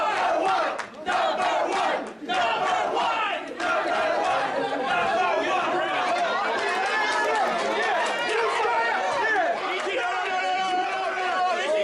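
A packed wrestling crowd at the Columbia roars and chants loudly and continuously, with shouts rising and falling and a commentator talking over the din.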